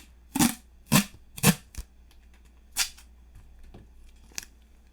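Duct tape ripped off the roll in several quick tearing strips and pressed onto a desk, close and crisp, with softer taps and handling sounds between.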